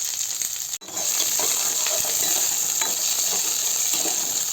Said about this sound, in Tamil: இப்போ கட் பண்ணி வச்சுக்கக்கூடிய வரமிளகாய், வெங்காயம், பச்சை மிளகாய், கருவேப்பிலை இது எல்லாத்தையும் சேர்த்து நல்லா வணக்கிக்கலாம்